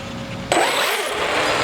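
A 4x4 RC truck capable of 60 mph starts its motor with a sudden loud burst that settles into a continuous close, rough engine drone.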